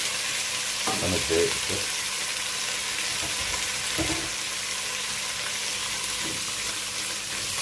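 Shrimp shells sauté in a hot pan with cardamom and mastic, a steady close sizzle and frying hiss throughout, with a few stirring scrapes and a brief spoken remark.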